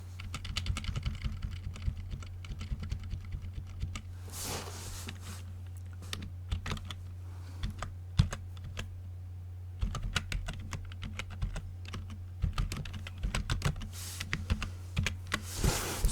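Continuous typing on a computer keyboard, a steady run of close, crisp key clicks with brief pauses, heard alone over a low constant hum.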